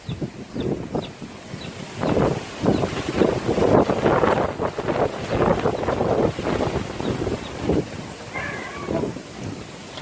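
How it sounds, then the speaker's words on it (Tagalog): Strong outdoor wind, a loud continuous rushing roar with heavy microphone buffeting that swells and eases over several seconds, no one talking. "Lakas talaga ng hangin."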